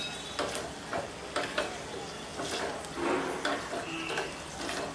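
A spoon stirs an orange cream mixture in a pan, giving soft repeated scraping strokes and light clinks at an even pace, fairly quiet and close.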